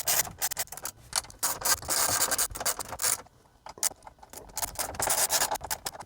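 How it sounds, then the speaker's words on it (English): Ratchet tightening four bolts back into a Porsche Cayenne dashboard during a touchscreen PCM 3.1 install, with bursts of close, raspy clicking that start and stop in short runs, separated by brief pauses. "We'll start putting the 4 bolts back."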